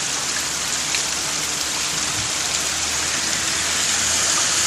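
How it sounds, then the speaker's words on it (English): Torrential rain hammers down on a street flooded like a river, a constant loud roar of falling and rushing water, growing slightly louder toward the end. "Freaking street is a river."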